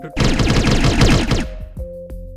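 A plasma pistol fires in a Halo virtual reality game, a rapid burst of about a dozen sharp shots in quick succession for over a second, then a few fainter clicks and tones as it stops.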